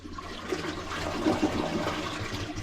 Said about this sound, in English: Flush it, see how it feels.